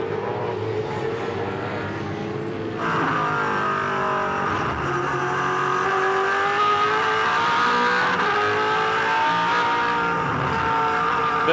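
A 2007 V8 Supercar engine at Oran Park roars at full throttle, climbing in pitch through the gears with a loud, sustained howl up close, with other race cars and faint tyre noise around it.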